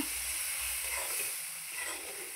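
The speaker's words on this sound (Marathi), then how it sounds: "आता आहे ना आपण ह्यामध्ये थोडंसं पाण्याचा हबका मारून घेणार आहे।" Water sprinkled into besan roasting in a pan for laddoos sets off a steady, close sizzle and hiss that holds evenly for a couple of seconds.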